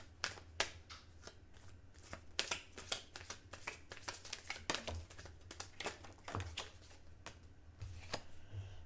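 Kipper fortune-telling cards are shuffled close up in a rapid run of crisp riffling slaps and flicks, some sharper than others, over a faint low hum.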